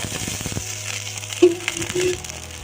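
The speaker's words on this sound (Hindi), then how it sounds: "अब ये छौंक गया हमारा, तैयार हो गया है, और अब हम इसको इसमें लगाएंगे, रस में।" A hot tempering of black cardamom and whole spices hits juice with a brief, loud sizzle, then fades into a few short bubbling hisses close by.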